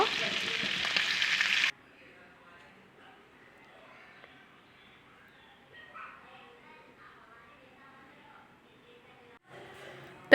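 Tandoori chicken sizzles loudly in a pan for under two seconds, then the sound drops sharply to a faint, muffled simmer, as if covered with a lid, with a brief louder burst near the end; a voice speaks quietly over it.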